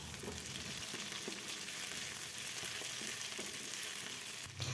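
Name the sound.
green chillies sautéing with bay leaf, galangal and ginger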